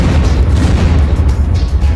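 A hundred C4 charges detonated at once in the game Unturned, a dense, continuous low rumbling roar with crackling bursts that fills the whole stretch at high loudness, with no talk over it.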